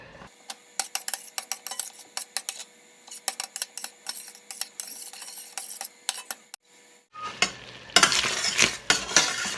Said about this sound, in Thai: ยายก็จะใส่กะทิลงไปนะคะเพื่อน ๆเพื่อที่เราจะผัดพริกแกงให้หอมนะคะ